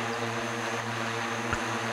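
Propellers of a SkyDrive flying car drone hover in a steady, droning buzz with a strong tonal hum, continuous and moderately loud throughout, without speech.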